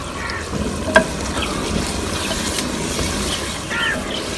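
Pumpkin simmers and sizzles in a pot for chicken kaddu, a steady close bubbling hiss with a brief metallic clink near the start.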